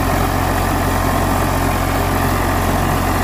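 An Eicher 485 tractor with power steering idling, a steady, loud low diesel thrum with a regular pulsing beat, close by and unbroken, with no voices over it.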